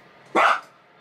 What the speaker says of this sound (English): Can you stop barking now?